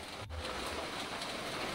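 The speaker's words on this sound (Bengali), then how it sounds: "হঠাৎ নামলো বৃষ্টি" Steady rain falls at night in the Baikunthapur jungle, a continuous soft hiss of drops that stays even throughout, with no voices.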